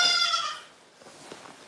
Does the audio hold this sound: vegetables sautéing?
no